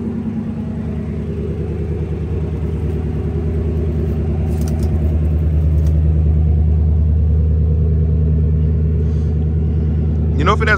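1966 Chevrolet Impala wagon engine warming up, a close, steady low rumble at idle holding throughout with a faint clink near the end.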